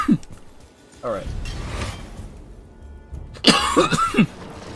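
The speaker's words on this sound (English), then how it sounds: "Sorry about the cough." A man coughs sharply twice, about two seconds apart, while playing God of War in Tyr's Temple, with game sound and murmuring in between.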